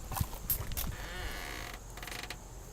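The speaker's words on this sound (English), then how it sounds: "Well, this door still opens." A car door creaks loudly as it swings open beside a vehicle with a completely flat tire, a drawn-out grinding squeak after a couple of sharp clicks, close and alone.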